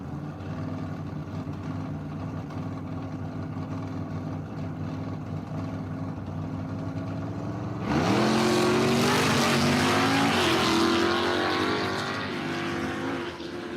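Drag racing cars at a dragstrip roll into the burnout box, a low engine rumble that erupts partway through into loud, roaring revs with rising pitch, close and dominant.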